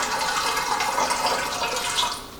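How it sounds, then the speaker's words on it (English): Liquid pours into a dish while cooking a large batch of food from scratch, a loud, continuous watery rush that holds steady before easing off at the very end. "I can only pour just a little at that time, because as soon as I'm trying to pour a little bit more, then it starts to go down on the side."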